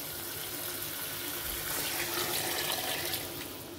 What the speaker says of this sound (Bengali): এখন আমি এর ভিতরে ঝোলের পানি দিয়ে দেবো।